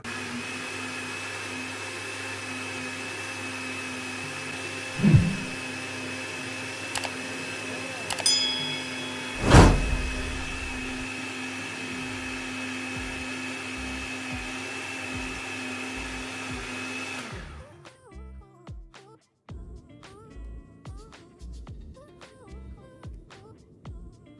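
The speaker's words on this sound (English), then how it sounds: "we're going to be just turning on our blender" A blender whirs steadily for pumpkin smoothie with ice, the motor's loud even drone running about seventeen seconds with a few knocks before it cuts off, leaving clatter and handling noises.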